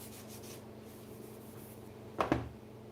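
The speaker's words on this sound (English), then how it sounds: "after I finish rubbing down this book, which is, as usual, pretty grimy" A grimy old book is rubbed down by hand: soft, continuous brushing and scuffing, then a short, louder scraping stroke near the end, close by and with no speech.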